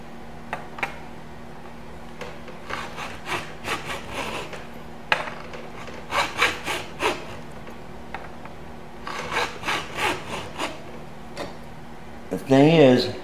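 Metal file rasping over fret ends on an American Stratocaster guitar, in short bursts of scraping strokes with pauses between, close and moderately loud, under a steady low hum.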